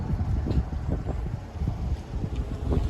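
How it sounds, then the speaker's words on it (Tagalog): Strong wind gusts at Myoousan Observatory buffet the microphone in low, rumbling bursts that rise and fall unevenly for a few seconds. "Grabe lakas ng hangin."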